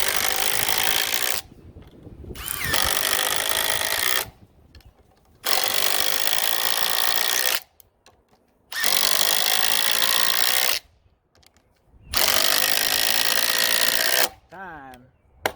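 A Ridgid Octane impact driver runs screws outdoors in windy conditions, giving four long, loud, buzzing bursts with short silent gaps between them.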